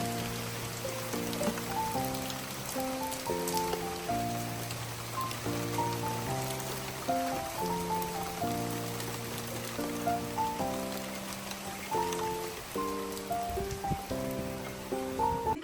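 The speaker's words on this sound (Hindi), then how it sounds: "मैं नाश्ते करते करते बारिश शुरू हो गई।" Steady rain patters continuously on surfaces outdoors, a constant hiss that runs throughout beneath a melodic background tune.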